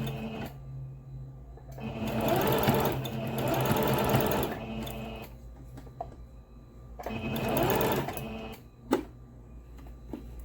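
A Singer sewing machine running a forward stitch in two long bursts of rapid mechanical whirring and clatter, close and steady, with a brief click and pause between runs and no speech.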